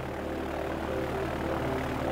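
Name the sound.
five-cylinder radial engine model running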